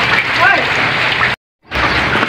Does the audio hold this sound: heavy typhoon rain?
yes